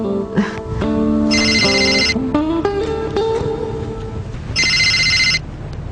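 A phone rings with a bright electronic trill in two bursts, over a background of tonal music or a melody, fairly loud and close.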